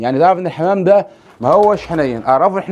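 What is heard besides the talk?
No distinct noise like a dog, phone or traffic.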